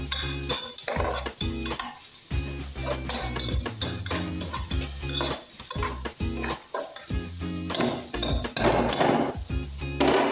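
Onions fry in a pan for a kangkong dish, a loud continuous sizzle with frequent scraping stirs and clinks of the utensil against the pan throughout.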